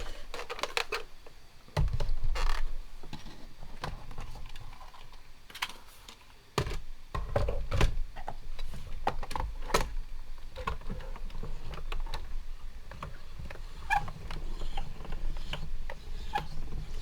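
A Spellbinders BetterPress letterpress machine is handled and operated up close, giving a run of clicks, clacks and mechanical thumps with a couple of heavier presses, irregular in rhythm and fairly quiet, with no talking.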